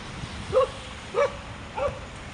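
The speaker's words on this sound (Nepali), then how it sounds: "कुकुर पनि छ यहाँ त, दुईटा तीनटा कुकुर बस्छ जति।" A dog in a residential spot in Malaysia gives three short, evenly spaced yipping barks, moderately close, over a faint background hum.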